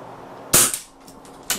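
A single sharp crack of an SMK XS78 .22 air rifle firing, close and loud, followed by a softer impact tap just under a second later.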